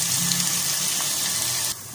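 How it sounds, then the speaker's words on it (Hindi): Onions fry in hot oil in a home kitchen, a steady bright hiss and crackle that runs loud and close for about two seconds, then drops off sharply near the end. "यहाँ पर मैंने प्याज शामिल कर दिए हैं और बहुत ही अच्छी तरीके से फ्राई कर लेते हैं इसको"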